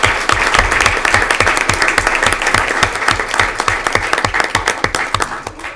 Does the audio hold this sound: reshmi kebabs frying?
no